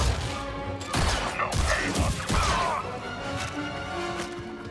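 Gun blasts in Star Wars Jedi: Survivor, a handful of loud, close shots and impacts over a dense layer of combat noise.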